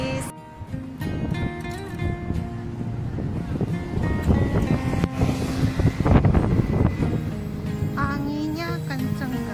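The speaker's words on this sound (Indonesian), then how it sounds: "Anginnya kenceng guys." Strong, gusting wind sweeping through a residential neighborhood in Shalu, Taichung, roaring steadily and buffeting the microphone, with a loud surge toward the middle and some faint rumbling underneath.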